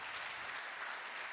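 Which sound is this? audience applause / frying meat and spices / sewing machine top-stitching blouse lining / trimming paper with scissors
audience applause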